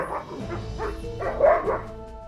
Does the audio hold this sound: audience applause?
no